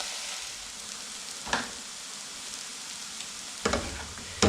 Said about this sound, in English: So I'm just going to get those mushrooms cooked off a little bit more.